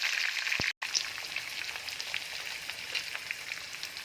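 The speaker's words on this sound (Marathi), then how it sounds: "आता मी त्यामध्ये कांदा घालून घेत आहे" Onion frying in hot oil with peanuts and curry leaves for bajra bhakri chivda, a steady close sizzle with small crackles, broken by a short silent gap near the start.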